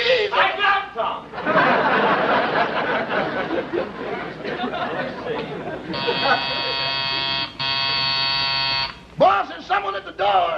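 People talk excitedly, then a harsh electric door buzzer sounds loudly for about three seconds, followed by more voices.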